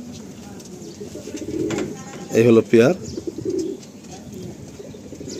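Pigeons of the Andhra and Madrasi breeds coo in a few close, loud bursts in the middle, while someone talks briefly and other birds chirp faintly in the background.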